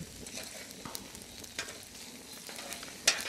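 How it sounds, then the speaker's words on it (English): Steady, moderate sizzling of food frying on a hot barbecue plate, with occasional scraping and a sharp clink near the end. "All right, sizzle, sizzle."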